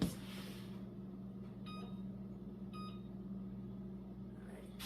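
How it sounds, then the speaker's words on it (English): An oven being set to bake bread for 25 minutes at 170 degrees gives two short electronic beeps over a steady low appliance hum in a quiet kitchen. "I'm going to stick it in the oven for 25 minutes at 170 degrees."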